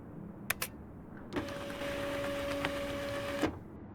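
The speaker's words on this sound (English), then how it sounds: "Did you print it? Printer time." A printer runs in the video game Life is Strange Remastered: a couple of faint clicks, then about two seconds of steady mechanical whirring with a thin tone, ending with a small clunk, fairly quiet and with no talking.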